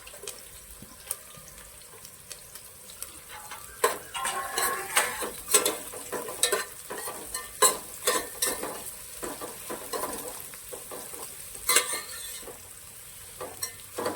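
Four large sliced onions frying in oil until golden for chicken biryani, with a steady sizzle beneath frequent scraping and stirring clatter of a utensil against the pan, close and fairly loud, no talking.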